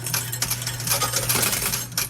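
Metal coins clatter and rattle continuously inside a high limit coin pusher arcade machine, a dense jingling cascade over a steady electronic hum, with no voices.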